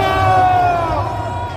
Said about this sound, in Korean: 큰 박수로 맞아주십시오